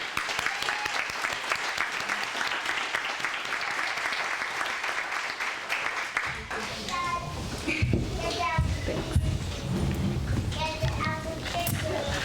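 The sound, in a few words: audience applause welcoming speaker at naturalization ceremony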